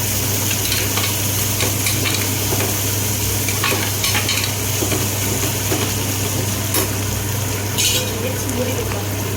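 Food sautés with rock salt in a pan, giving a steady sizzle and frying hiss with intermittent stirring scrapes and clinks of a utensil, over a constant low hum.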